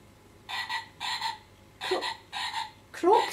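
A frog-sound percussion instrument imitating croaking, played in five evenly spaced raspy bursts, moderately loud and alone, accompanying a children's song about a mother frog and her son.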